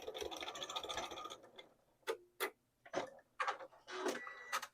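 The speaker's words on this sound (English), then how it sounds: "And then I'm going to sew off again," Sewing machine back stitching a fabric strap onto webbing for a bag handle, short bursts of needle chatter separated by pauses, close and fairly quiet, with no talking.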